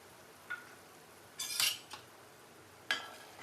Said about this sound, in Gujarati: પછી મિક્સ કરી લઈ